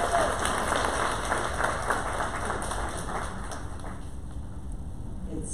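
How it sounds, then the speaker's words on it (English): Steady applause from a crowd at a Women in STEM event at HCC Central College, clapping fairly evenly throughout and slowly fading a little toward the end. "let's give them all a big round of applause"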